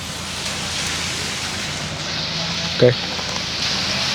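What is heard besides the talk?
rain starting after arriving on motorcycle tour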